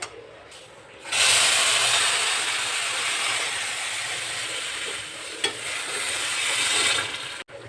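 Water is poured into a pan of fried semolina and sugar, setting off a sudden loud, steady sizzling hiss that continues close by for several seconds with faint stirring and no talk.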